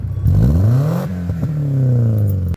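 A car with an aftermarket exhaust revs hard: the engine note climbs to a peak, drops and holds a steady throaty drone before cutting off abruptly, loud and close.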